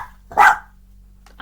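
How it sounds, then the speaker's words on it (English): A pet dog named Jake gives a single sharp, loud bark close by indoors, followed by a brief fainter yelp, with no talking over it. "And if you heard that, that was my dog."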